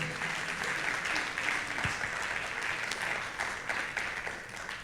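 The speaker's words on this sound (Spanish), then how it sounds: "Dale un aplauso al Señor." A church congregation applauds during a Sunday worship service, steady dense clapping filling the room from start to finish at a moderate level.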